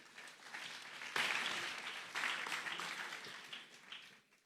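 An audience at a business talk on investing breaks into applause, a dense wash of clapping that surges twice and then gradually fades out.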